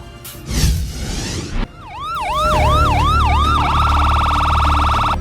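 A loud ambulance siren wails in a rapid rising-and-falling cycle after a passing vehicle whoosh, then shifts to a steady high tone with engine rumble underneath.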